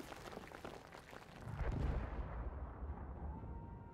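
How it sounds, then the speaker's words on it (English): A rocket-gun explosion in the video game Battlefield 1 on Xbox One, a heavy booming blast that swells and rumbles low before fading, set against a busy background of game noise. "Oh, that rocket gun got us all."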